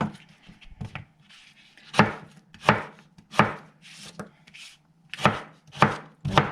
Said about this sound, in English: Then you cut the planks into fries.